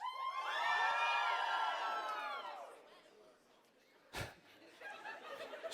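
A large convention crowd at a PAX East keynote screams and cheers loudly for a couple of seconds, then fades to murmuring before a sharp bump and scattered laughter and chatter.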